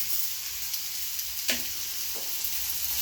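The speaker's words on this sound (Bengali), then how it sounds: "ভালো করে কষিয়ে নিচ্ছি।" Potato and carrot with poppy seed paste sauté in a pan, giving a steady, close, even sizzle with a couple of soft stirring scrapes and no talking.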